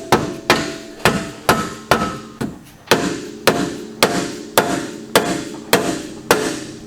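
Steel hammer blows pound a Polaris Ranger control arm in a steady series of about fifteen loud, close metallic strikes, each ringing briefly before the next, with no talk over them.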